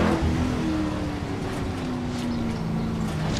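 A car driving in the video game Worms Ultimate Mayhem, a steady loud engine drone with a slowly falling pitch, continuous and close with no talk.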